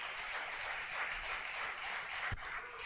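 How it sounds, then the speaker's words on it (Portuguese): A church congregation applauding, a dense steady wash of clapping that fills the whole moment at moderate loudness, with one sharp low thump near the end. "Aplauda Jesus se você é crente."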